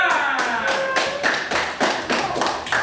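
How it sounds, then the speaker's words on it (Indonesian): Students in an elementary school classroom clap for a group at the front, a run of fairly close hand claps with a steady, uneven rhythm and no talk over it. "Tepuk tangan untuk kelompok 1 atau kelompok subjek."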